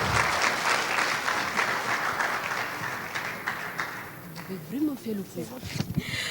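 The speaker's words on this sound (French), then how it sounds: "Applaudissez pour elle, s'il vous plaît." A crowd applauds steadily at a year-end student ceremony, clapping fading out as a voice begins speaking over the end.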